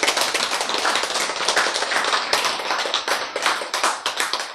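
A crowd at a Bible lecture claps steadily for several seconds, a dense patter of many hands close by with no voices over it.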